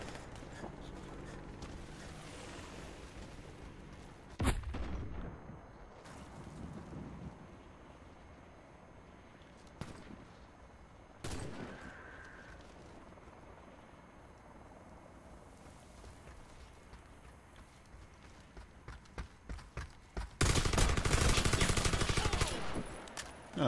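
Submachine gun fire in the shooter game Warface: Breakout, with sharp isolated shots and a dense, loud burst near the end over a quieter background.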